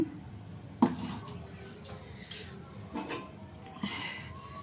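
Pots and utensils clank and clink in short scattered knocks as food is taken out of a pressure cooker. The sounds are fairly close but soft, with faint background noise and murmuring between the knocks.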